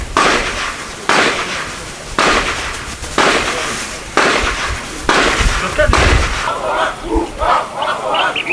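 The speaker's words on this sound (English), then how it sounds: "Let us listen to the firepower of the rifleman." Volleys of rifle fire from soldiers kneeling, squatting and standing at a Ghana Armed Forces land combat firepower demonstration, roughly six loud sharp bursts about a second apart, with crowd noise and shouting between them.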